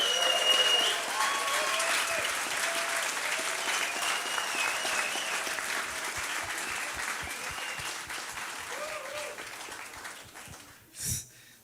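Applause from a large crowd at a celebration-of-life memorial, sustained clapping that slowly fades over several seconds, ending with a short burst of noise near the microphone.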